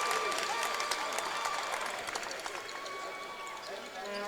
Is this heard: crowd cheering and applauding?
yes